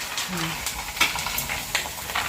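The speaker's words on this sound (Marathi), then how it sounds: "बघा ना ते पापड तळते पूजा" Papad frying in hot oil in a home kitchen, a steady crackling sizzle with light bubbling, close and continuous.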